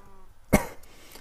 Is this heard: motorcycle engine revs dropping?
no